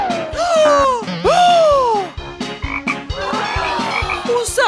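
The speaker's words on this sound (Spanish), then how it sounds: "¿Un sapo?" A toad croaks loudly and close by in a quick series of warbling, sliding calls, with several rapid pulses crowding together toward the end.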